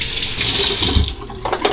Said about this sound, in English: And the final rinse with hot and then cold water.